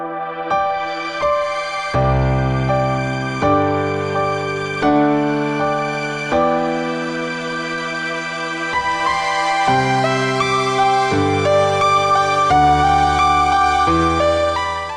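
A soft, lush keyboard pad plays slow sustained chords with gentle changes and a warm low end, loud and alone without any voices.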